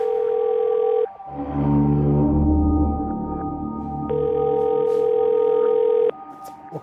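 Telephone call going unanswered, a steady electronic ring tone sounding for about a second, pausing, then sounding again for two seconds, with a low background hum between rings and no voices.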